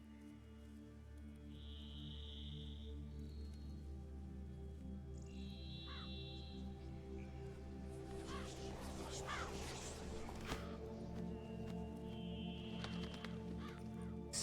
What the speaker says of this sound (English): What was that? A raven?